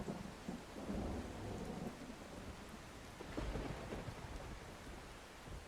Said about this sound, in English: that thunder that you just heard in your left ears. That stock thunder sound effect.